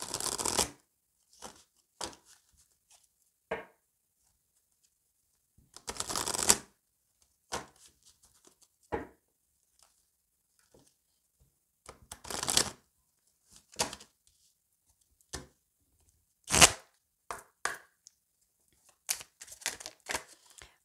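Lenormand oracle cards being shuffled by hand in short, crisp riffling bursts separated by pauses, close and fairly quiet, with no talking.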